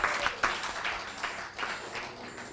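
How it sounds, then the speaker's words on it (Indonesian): An audience applauds at an FGBMFI Indonesia church gathering, producing a fairly faint, steady patter of many hands. A few louder claps stand out, and no one speaks over the applause. "Tepuk tangan dulu dong buat LOF."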